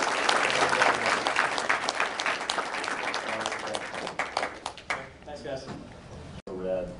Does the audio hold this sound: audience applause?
yes